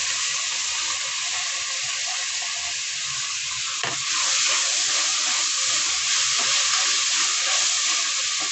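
Chopped tomatoes frying in oil in a pan, a steady broad sizzle with a brief stir or splash partway through and a brighter hiss afterward, close and continuous.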